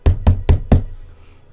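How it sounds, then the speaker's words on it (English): Four firm, evenly spaced knocks on a door sound loud and close in quick rhythm, followed by quiet. "Did you knock?"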